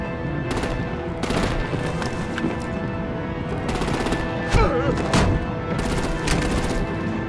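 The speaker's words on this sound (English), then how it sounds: "Break out the artillery and disable their vehicles!" Rapid bursts of gunfire in the Batman: The Enemy Within game, repeated loud volleys crackling over a dense, noisy battle background.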